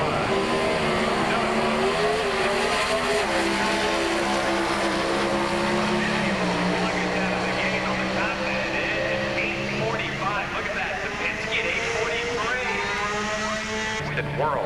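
Comp-class drag cars on a qualifying pass at the 1990 Spring Nationals, including the Super Shops car in the Budweiser lane, roar loud and steady with a continuous high engine howl for the whole stretch, with an announcer talking over it.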